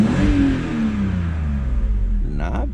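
A used car's warmed-up engine revs up and winds down in a sweeping rise and fall, then blips sharply again near the end, loud and close.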